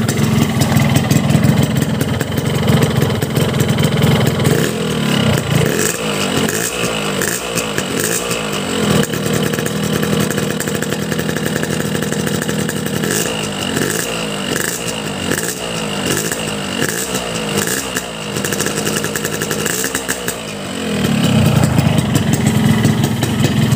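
A cold two-stroke motorcycle engine idles with a buzzy rattle, then revs up sharply several times, the pitch climbing and falling, close and loud.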